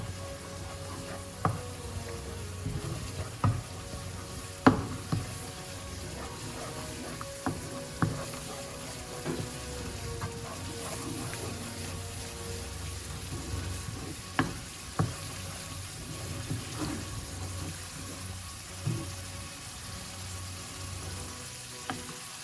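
A teaspoon of tomato paste stirred into a sizzling pan of cooked vegetables, with steady close frying hiss and scattered spoon scrapes and taps against the pan throughout.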